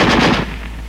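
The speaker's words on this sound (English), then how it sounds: "Weapons giving automatic fire will fire continuously as long as pressure is applied to the trigger" A burst of WWII automatic machine-gun fire, loud and rapid, rattling for about half a second before cutting off into a lingering low rumble.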